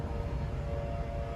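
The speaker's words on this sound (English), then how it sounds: "the tornado sirens are on" A steady wailing tornado warning siren drones in the distance, a continuous tone over low rumbling background noise.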